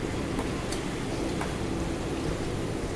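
Food, apparently biryani with chicken 65, fries in a pan with a steady, dense sizzle and scattered pops, close and continuous with no talking.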